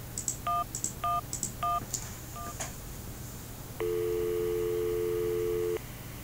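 Touch-tone keypad beeps as a phone number is dialed in the Syberia adventure game: a quick run of distinct tones, then a sustained steady ringing tone over faint background hum, with no talking.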